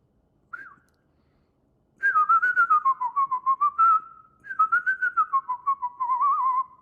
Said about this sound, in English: If I can whistle, it's no problem.